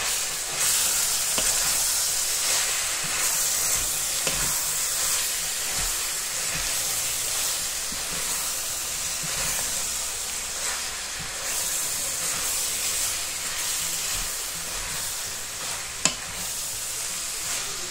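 Grated carrots sizzle steadily in a hot pan, a continuous close frying hiss with occasional scraping stirs and one sharp knock near the end, no voices.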